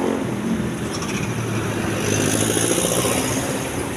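Heavy road traffic with many motorcycles on a congested route in Ragay, Camarines Sur: a steady, dense wash of engines and tyre noise, close and continuous, with no talk over it.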